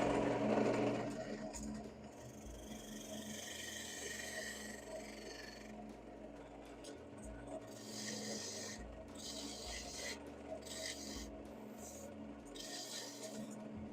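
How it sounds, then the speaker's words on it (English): A drill bores into a wooden collar on a woodturning lathe, giving a steady rasping, grinding whir with pulsing surges and brief drops, close and fairly quiet, with no talking. "Actually, I think what I want to do is drill it first."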